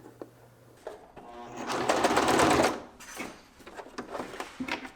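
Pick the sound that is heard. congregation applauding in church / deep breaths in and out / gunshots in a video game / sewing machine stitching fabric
sewing machine stitching fabric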